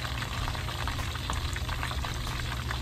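Battered Dover sole fish frying in hot oil, a steady loud sizzle and crackle with scattered pops, continuous and close.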